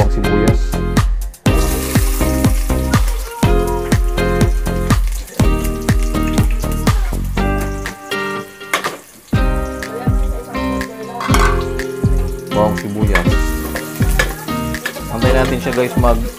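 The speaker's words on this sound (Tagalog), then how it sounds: "magigisa na tayo ng bawang sibuyas" Garlic and onion sauté in a pan for a Filipino mung bean dish with coconut milk, jackfruit and pork ribs, giving a loud steady sizzle broken by repeated stirring and utensil scrapes, with no talk.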